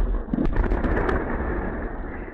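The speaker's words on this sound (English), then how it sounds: "An explosion at a Russian airbase." An explosion at the Engels air base in Russia, recorded by a CCTV camera, comes through as a loud, rough, rumbling roar with brief crackling bursts early on, fading slightly over a couple of seconds.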